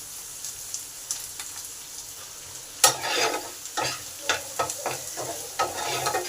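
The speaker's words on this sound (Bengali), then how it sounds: "এবার পেঁয়াজটাকে ভালো করে ভেজে নেব" Garlic, already browned in hot oil, sizzles as onion goes in and is stirred, with a steady close fry and repeated scraping, clattering stirs that grow busier partway through.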